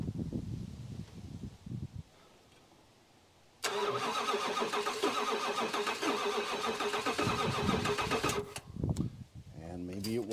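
The engine of a 1983 Dodge Ram truck, off the road for over 20 years, cranks briefly, then catches and runs roughly for several seconds before cutting out, with someone talking before and after.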